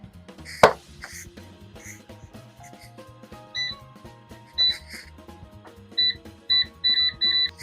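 An air fryer is set to cook pizza slices: clicks and handling noises, then a run of short electronic beeps from its control panel, close and fairly loud in a quiet kitchen.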